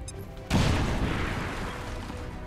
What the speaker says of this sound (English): No, frag grenade.